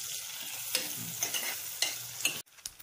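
Shrimp with salted eggs and vegetables stirred in a sizzling pan, a continuous close frying hiss with repeated scraping spatula strokes and a sudden cut near the end.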